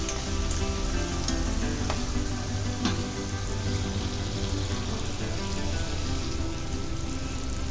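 Two chopped tomatoes sizzling steadily in a frying pan of oil with softened vegetables, a continuous close crackle with a few sharper pops and no talking, cooked for a village-style dried fish and brinjal curry.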